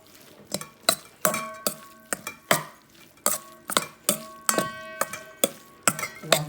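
A spoon clinks and scrapes against a bowl or plate while boiled basmati rice is mixed with egg curry, giving a series of sharp, irregular metallic taps at close range with no talk.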